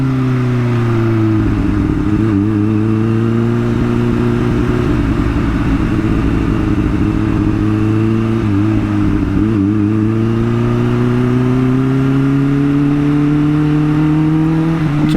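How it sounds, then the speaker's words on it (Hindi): A Kawasaki Ninja H2 motorcycle on a night ride along a city canal road, its engine droning loud and steady with rising and falling revs and crackling exhaust backfire pops throughout. "और पॉपअप्स इसके जो एग्जॉस्ट में से निकलते हैं, बैकफायर जिसको कहते हैं।"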